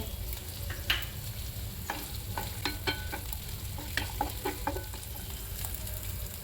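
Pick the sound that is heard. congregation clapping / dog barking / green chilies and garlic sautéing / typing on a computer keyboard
green chilies and garlic sautéing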